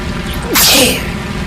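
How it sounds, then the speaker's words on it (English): A single sharp sneeze from a pilot with hay fever in a WWII dogfight video game, a short breathy burst with a whooshing exhale over a low steady engine drone. "Oh, sneezing."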